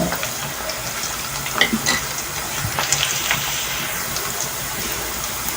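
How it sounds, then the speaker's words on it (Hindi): Onions frying in a pan for a green peas chutney, a steady broadband sizzle with occasional crackles and faint clicks, heard alone at moderate level throughout. "देखिए हमें प्याज फ्राई हो रहे हैं"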